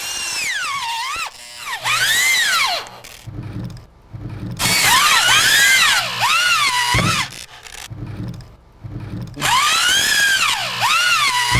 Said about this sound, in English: By using the hammer drill to finish the rest of your holes